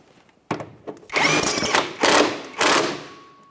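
A power tool snugs the rear shock bolts on a 2010-2013 Kia Forte Koup in several loud, close bursts of whirring, each separated by brief pauses.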